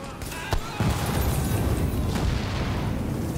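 In the game The Division, a bomb goes off with a sharp pop followed by a heavy, rumbling boom that keeps roaring through the rest of the moment, loud and close.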